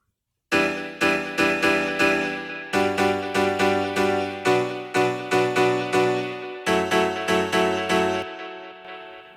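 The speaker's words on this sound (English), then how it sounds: "And then the Nexus preset sounds like this on its own." A Nexus piano preset from the Kashmir pack plays alone in quick, rhythmic chord stabs in groups, bright and clean with a short ringing tail at the end and no voices.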